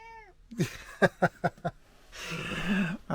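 A pet cat meows several times in quick, close succession, with short rising cries, followed by a longer drawn-out yowl near the end.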